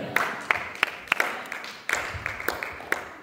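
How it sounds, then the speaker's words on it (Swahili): Congregation at a church service clapping hands in a loose, uneven rhythm, sharp claps every half second or so, moderately close over a murmuring room. "Chapa makofi."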